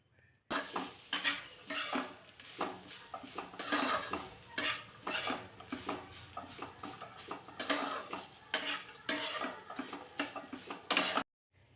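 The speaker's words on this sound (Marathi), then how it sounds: "हे सुद्धा थोडा वेळ या तुपावरती चांगलं भाजून घ्यायचे" Grated coconut roasting in ghee in a pan for coconut rice, stirred with a metal spoon in busy, rhythmic scrapes and clinks against the pot over a faint sizzle, close up with no talk.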